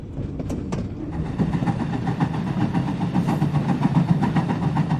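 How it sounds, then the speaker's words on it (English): California's Skunk Train running through forest: a loud, steady engine rumble with rhythmic rail clatter and a few sharp metallic squeals early on. "Then the skunk train traveled through the forest for quite a while."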